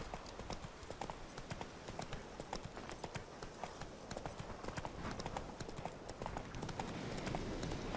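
Horse hooves clip-clopping at a steady riding pace in The Witcher 3, a continuous run of even, close hoof strikes at moderate volume with no talk over them.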